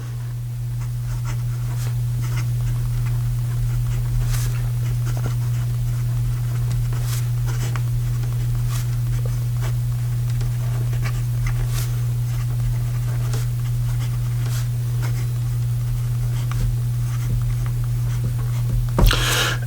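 A Diplomat Excellence A2 Skyline fountain pen with a steel nib writes on paper, giving a steady, faint scratch of nib strokes with small taps and pauses, close up over a constant low electrical hum.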